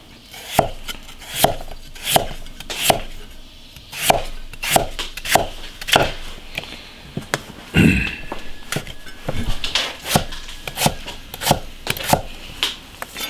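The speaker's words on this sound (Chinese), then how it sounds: "切点配料。" Knife chopping ingredients on a board for a braised pork skin dish, with sharp, close, fairly regular chops repeating throughout and a brief louder knock midway, no voices.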